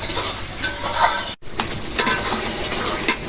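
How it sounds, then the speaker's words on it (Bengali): Spice paste frying and being stirred in a pan during Bangladeshi village cooking for Eid, a steady close sizzle with scraping stirs throughout, cut off by a brief silence near the middle. "মশলা অনেকটা সময় নিয়েই কষাইলাম"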